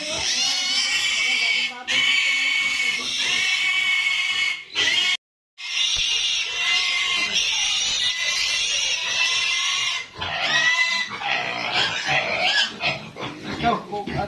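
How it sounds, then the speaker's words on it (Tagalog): Four large pigs grunt and squeal close by in repeated bursts, high nasal oinks with a brief pause midway; a person speaks at times among them. "Ito mga friends, apat. Apat na baboy."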